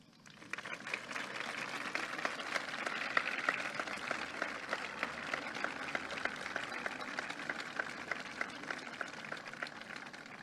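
A large outdoor crowd at the Athens Acropolis applauding Emmanuel Macron's 2017 speech, a sustained, fairly distant wash of dense clapping that starts abruptly and continues steadily.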